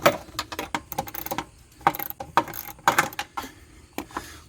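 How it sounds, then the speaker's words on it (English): A ratchet wrench loosens 10mm bolts on the 6.2L V8 of a 2013 Ford F150, giving close, rapid clicking bursts in several separate runs with short pauses between. "Now we'll switch to 10mm, and we'll get bolt number 1 and bolt number 2."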